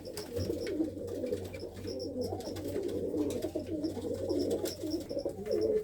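Pigeons coo continuously nearby in a low, murmuring chorus of overlapping soft calls, with faint higher chirps now and then.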